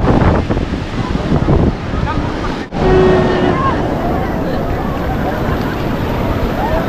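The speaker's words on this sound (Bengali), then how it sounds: "দারুণ ঢেউ" Ocean waves at Puri beach surge and wash in a broad, close roar mixed with wind buffeting, a brief dropout midway, and a voice speaking over it.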